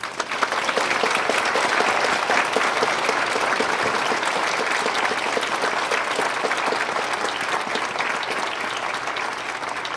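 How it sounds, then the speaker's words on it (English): Steady, sustained audience applause at a Christmas program, honoring the program directors, loud and dense throughout with no break in the clapping. "everyone please join me in giving them a round of applause for our directors"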